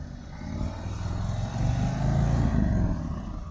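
A motorcycle engine held at high revs with too much throttle, a steady rough drone swelling slightly louder over a few seconds, close by and without talk.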